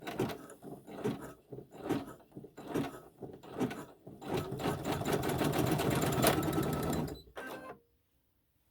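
A home embroidery sewing machine stitches a tack-down line on a quilt block. It runs in short rhythmic bursts of rapid needle clatter, then a longer continuous run that stops abruptly into silence. Close and fairly loud, with no talking.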